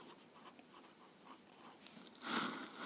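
Scratchy strokes of writing on a board during a physics lesson on summing forces. The soft strokes run steadily, with a sharp tap partway through and a denser burst of writing near the end. No one speaks.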